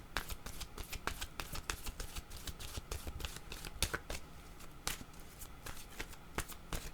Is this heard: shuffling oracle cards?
yes